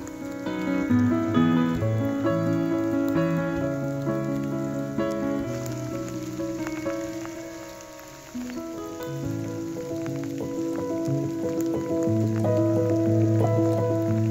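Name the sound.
rain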